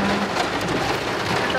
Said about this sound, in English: At the moment it's raining.